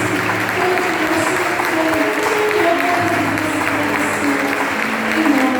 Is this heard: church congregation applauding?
yes